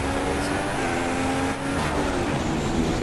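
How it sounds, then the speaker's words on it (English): A Formula 1 car engine in the F1 2016 video game drones loud and steady at high revs, a dense buzzing roar that barely changes pitch over a few seconds. "coming up to the end of the warm-up lap"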